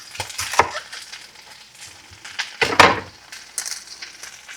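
A knife chopping a big sweet Vidalia onion on a board, giving a few irregular sharp cuts and crunches with quiet gaps between them.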